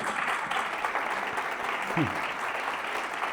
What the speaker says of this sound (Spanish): Le damos un fuerte aplauso a Marcos.